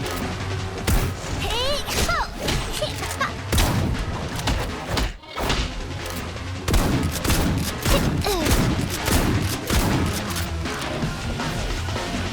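Gunfire in the video game Silver Palace comes as heavy, rapid volleys mixed with crashing impacts and thuds. It is loud and nearly continuous, with one brief drop partway through.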